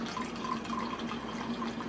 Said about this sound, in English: Take that cork out of it, and you're ready to pour, darling.